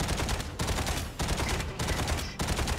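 Dense, loud gunfire in the mech combat game Mech Arena, continuous bursts of rapid shots in roughly half-second pulses, with no talk over it.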